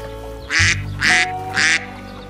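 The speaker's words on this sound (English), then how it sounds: "Listen to the duck going." A duck quacks three times at an even pace, loud and close, over a steady low background hum.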